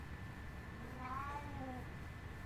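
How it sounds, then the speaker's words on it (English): A cat meows inside the Minecraft video game, one drawn-out, rising-and-falling call heard faintly over a steady background hum. "This cat, where did it go?"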